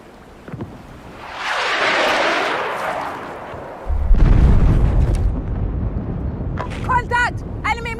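A heavy video-game airstrike explosion with a swelling, roaring blast and a deep booming impact afterward, followed by lingering rumble and scattered sharp clicks and whistling effects.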